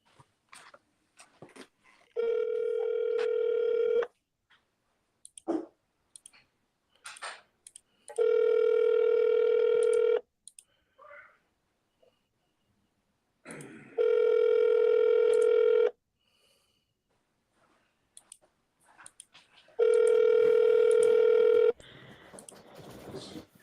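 A telephone ringback tone repeats four times at even intervals, each a steady buzzing burst lasting about two seconds. Faint shuffling and brief background sounds fill the gaps between rings.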